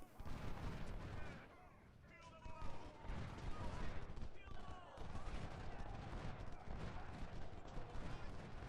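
Massed musket volleys and booming artillery from troops in Ultimate General: Civil War at Gaines Mill, crackling rolls of gunfire with deeper thuds, dense and continuous with brief lulls, while a voice talks over it.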